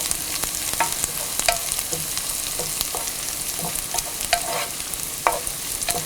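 Small onions with salt sauté in a pan for stir-fried prawns, a constant close sizzle with repeated scraping and clacking of a spoon stirring against the pan, no voices.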